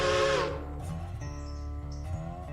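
Steam locomotive whistle in the Railroader game, a loud hissing blast that eases into a sustained, tonal whistle, with a little faint chatter around it.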